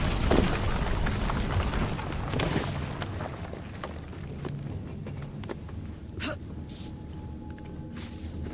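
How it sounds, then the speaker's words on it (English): A Piece of Eden detonating in Assassin's Creed Syndicate, a deep rumbling boom that swells at the start and slowly fades into low debris rumble and scattered noises. "Piece of Eden detonated and took the lab with it"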